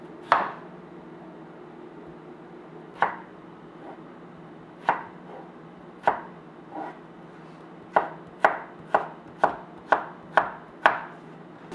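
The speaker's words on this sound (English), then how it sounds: "Now I'm going to peel and cube 3 small potatoes." Knife chopping small peeled potatoes into cubes on a cutting board during preparation of an orzo meat soup, heard as sparse single cuts at first, then a quicker run of about eight crisp, evenly spaced chops, close and alone.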